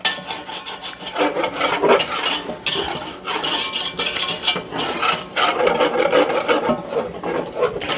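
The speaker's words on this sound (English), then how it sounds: "as I'm whisking, I am also scraping up those nice brown bits too as we go" Close, continuous scraping and rasping as a whisk works a roux of flour and hot grease in a pan, lifting browned bits from the bottom in a steady rhythm, with no voices.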